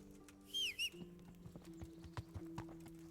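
Horse in the video game Kingdom Come: Deliverance: a short rising whinny early on, then steady clip-clop of hooves at a walking pace over a quiet tonal background hum.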